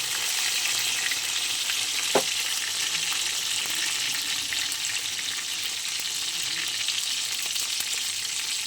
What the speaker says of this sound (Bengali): বেগুনগুলো দিয়ে এবার একটু ভেজে নেবো সুন্দর করে